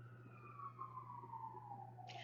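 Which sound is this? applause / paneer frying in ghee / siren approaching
siren approaching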